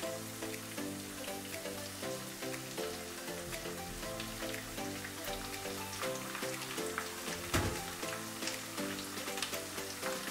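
Ginger garlic paste sizzles steadily in a hot pan for a chicken curry, a continuous close crackle of frying that lasts throughout with no talking.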